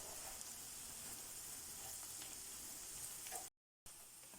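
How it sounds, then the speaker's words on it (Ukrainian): A quiet, steady sizzle of flour frying in a pan until golden, a faint continuous crackle that drops out briefly near the end. "Вкидаємо борошно і смажимо його до золотистого кольору."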